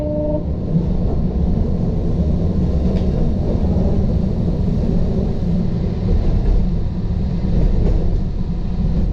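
Continuous low rumble and drone of a Berlin S3 S-Bahn train running, steady and fairly loud from inside, with faint rattles.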